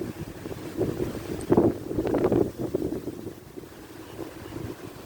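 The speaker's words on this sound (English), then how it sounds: "this is just outrageous wind" Strong wind buffets the microphone outdoors beside the water during a float fishing trip, a steady roaring rumble with louder gusts around the middle and no talking.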